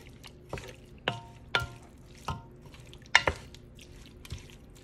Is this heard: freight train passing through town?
no